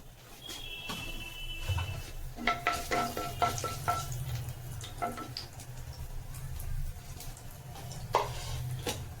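Nigella seeds frying in hot oil in a wok for a light curry of green banana, potato and yardlong beans, giving a steady close sizzle with occasional stirring and light clinks, no talk.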